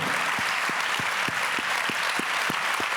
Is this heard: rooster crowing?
no